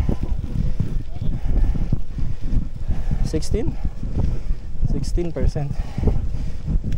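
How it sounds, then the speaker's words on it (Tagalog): Strong wind roars and buffets the microphone in a constant low rumble at a mountain view deck in Porac, Pampanga, while a person speaks briefly over it. "Lumakas yung hangin."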